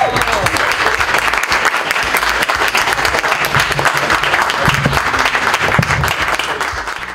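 Audience applause at a navigation rally award ceremony during the Serbia winter round, sustained steady clapping from a crowd filling the whole stretch at an even, fairly loud level.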